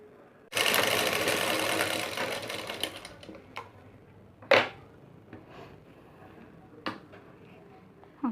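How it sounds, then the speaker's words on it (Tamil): Sewing machine stitching folded fabric for a neck design, a close burst of rapid whirring for about two and a half seconds, followed by scattered clicks and handling taps. "இனி இது வந்து நம்மளுக்கு மடித்து ஸ்டிச் பண்ணலாங்க"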